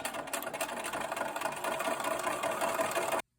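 Steady, fast mechanical whirr of a sewing machine stitching quilt fabric pieces together for a feather star block, running continuously and close, then stopping abruptly at the end.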